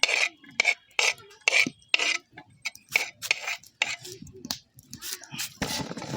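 Chopped onion tipped into a clay cooking pot for handi mutton, giving a run of close, dry rasping and scraping bursts with brief pauses between them, no one talking.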